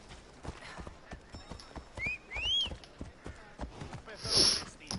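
Horse hooves clip-clop at a steady walking rhythm in Assassin's Creed Odyssey, close and moderately loud, with a brief whinny and whistling tones layered in near the end.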